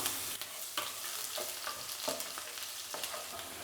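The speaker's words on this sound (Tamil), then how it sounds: "இப்போ பூண்டெல்லாம் நல்லா ஃப்ரை ஆகிடுச்சு." Steady sizzling of garlic frying in a hot pan, with occasional soft scrapes of stirring breaking through the continuous crackle.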